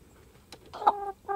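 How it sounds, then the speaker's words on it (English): A rooster clucks close by in a short burst near an off-grid cabin, a few soft throaty calls rising to one louder cluck, with quiet background between. "the rooster has decided I'm not a threat, and I can just say hello."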